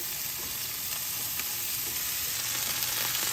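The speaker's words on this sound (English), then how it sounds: "So we're just sauteing the fish a little bit." Flour-dusted fish sautés in a hot pan for a fish curry rice bowl, giving a loud, continuous sizzle with a steady crackling texture and no talking.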